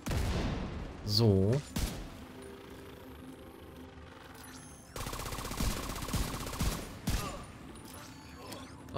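Gunfire in the video game Tom Clancy's The Division 2, bursts of rapid shots in two or three clusters mixed with game effects, and a voice talking over it.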